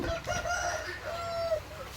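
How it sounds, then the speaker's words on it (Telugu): A fighting rooster crows close by in drawn-out, strained calls, followed by a few low clucking sounds. "ఇదిగోండి ఇది మూడో పుంజు"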